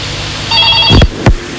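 Phone ringtone on an Indonesian radio call-in show, a steady electronic tone pattern followed by a couple of sharp thumps, with no one talking.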